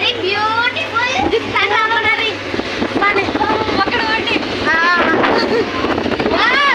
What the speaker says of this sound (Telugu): ఓ మై గాడ్, గాలిని చూడండి ఒకసారి.